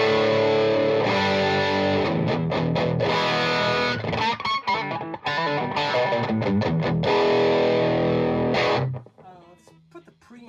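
An electric guitar through a Soldano Atomic 16 tube amp plays loud, heavily distorted chords and riffs, then stops abruptly and leaves quieter trailing noise.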